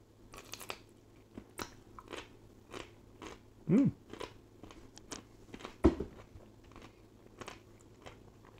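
Crisp pickled black radish is bitten and chewed up close, with two sharp, distinct crunches standing out against quiet, soft mouth noises.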